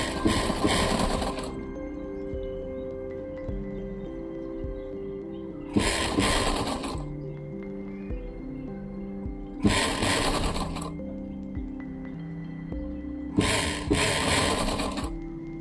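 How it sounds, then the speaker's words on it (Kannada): A sewing machine stitches a pocket onto kids' pants in four loud, close bursts of rapid whirring, separated by quieter pauses where a low steady hum continues. "ಈ ಎಡ್ಜಿಂದ ಈ ಥರ ರೌಂಡ್ ಬಗ್ಗೆ ನಾನು ಇದನ್ನು ಸ್ಟಿಚ್ ಮಾಡ್ಕೊತಾ ಹೋಗ್ತೀನಿ"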